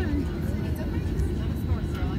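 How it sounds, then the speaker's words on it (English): Jet airplane engines roar steadily nearby while a plane taxis toward the takeoff line, a broad continuous rumble with people talking over it. "there's another airplane that's vroom vrooming."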